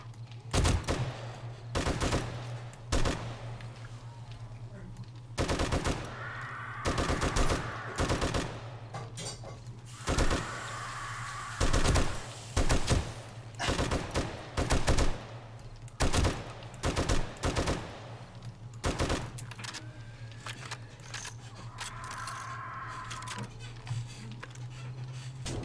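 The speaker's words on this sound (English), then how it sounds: "I was in the middle of shooting him." Bursts of gunfire rip out repeatedly in the video game 7 Days to Die as zombies are shot, rapid automatic strings and single loud shots spread through the clip over a constant low hum, with occasional talk.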